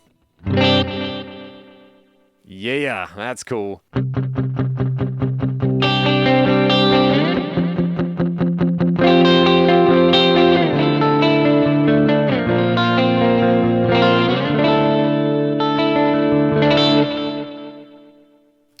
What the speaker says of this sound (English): Let's try the Space Echo.